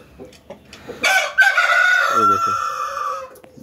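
A rooster crows loudly and nearby, preceded by a few soft clucks and scattered barnyard noises, with hens clucking briefly during the call.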